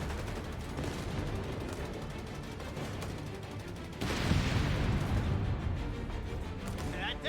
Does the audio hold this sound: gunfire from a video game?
yes